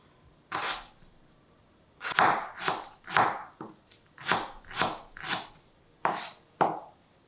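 A knife cuts ingredients for beef rendang on a board in about ten sharp, separate chops spaced roughly half a second apart, close and crisp against a quiet background.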